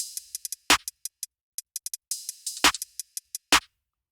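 A sparse beat of sharp, bright clap and snare hits, a few loud accents among many quick softer ticks, with silence between.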